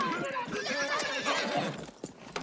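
A horse whinnies in a film scene, a shrill neigh over a busy mix with a few hoof clops near the end; no clear talk over it.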